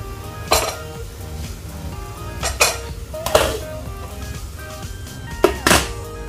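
A pot of biko, the Filipino sticky rice cake, being covered and stirred: several sharp metallic clanks and thunks of a lid and utensil against the pot, spread out over a low background hiss, with no talking.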